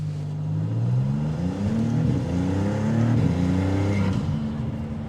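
A 2025 Maserati MC20 Cielo convertible on a wet road, its engine droning and revving up and down up close in a continuous rising and falling note, with no talking.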